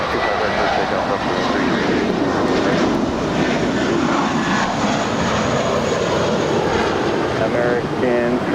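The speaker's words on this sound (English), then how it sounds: "Our next departure is Delta Airlines Flight 323 heading to JFK. It's a 767-300ER." A Delta Boeing 767-300ER jet takes off from LAX bound for JFK, its engines a loud, steady, broadband roar that holds throughout, with voices talking over it.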